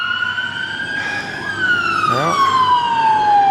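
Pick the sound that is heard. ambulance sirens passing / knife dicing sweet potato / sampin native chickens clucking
ambulance sirens passing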